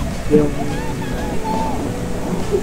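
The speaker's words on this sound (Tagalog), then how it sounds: "Lakas ng hangin." Strong wind on Mount Polis buffets the microphone in a low, continuous rumble, with a few faint voices and tones drifting through.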